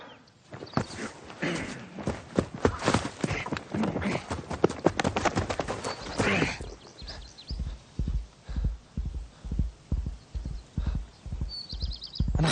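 Hooves of a horse clip-clop on the ground, starting in a dense flurry that then settles into a steady, evenly spaced gait, with a brief whinny-like sound near the end.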